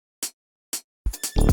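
A realistic hi-hat in a jazzy organic house groove ticks on the upbeats with two short, crisp hits, then a denser cluster of percussion enters as the brief loop continues, with no talk.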